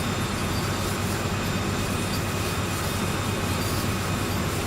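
A CSX C40-8W diesel locomotive hauls a train in Train Sim World 2, giving a steady loud rumble of engine and rolling wheels that holds without a break.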